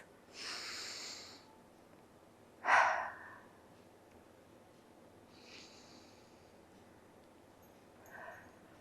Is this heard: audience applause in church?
no